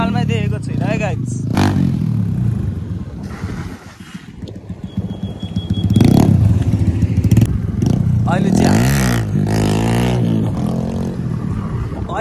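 Motorcycle riding through traffic in Nepal, its engine running steadily throughout with louder surges midway, mixed with other traffic noise and voices talking over it.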